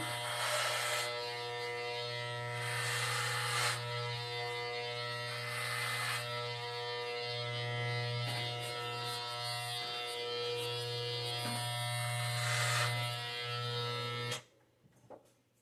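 Electric clippers buzz steadily as they shave a head, a constant humming drone that swells and dips slightly as the blades move across the hair, then cuts off abruptly near the end.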